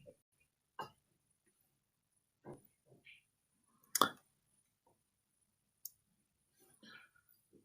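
A card number is keyed into a payment keypad, a handful of faint, separate clicks spaced irregularly across a quiet background.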